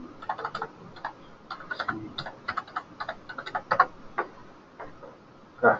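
Computer keyboard being typed on, a quick irregular run of light clicking keystrokes close by, bunching in short bursts with brief pauses and one louder clack at the end, no speech.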